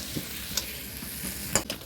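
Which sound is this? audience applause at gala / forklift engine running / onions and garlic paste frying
onions and garlic paste frying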